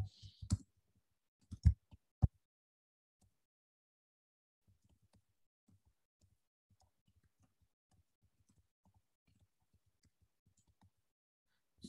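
A computer mouse clicks a few times in quick, sharp, close taps near the start, with one more click at the very end and near silence between them.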